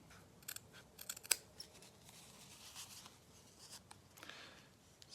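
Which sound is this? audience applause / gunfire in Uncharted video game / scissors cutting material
scissors cutting material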